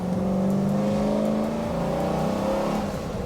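A BMW 330i engine pulls hard at full throttle on a race track, its loud, steady drone climbing in pitch through the revs with a shift near the end. No one speaks.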